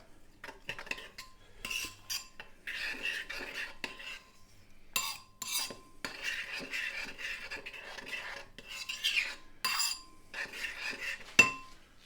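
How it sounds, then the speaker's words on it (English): A spoon stirs instant oats in a pot, giving repeated scraping clinks and rattles in irregular bursts, close and moderately loud, with no voices. "Give that a stir."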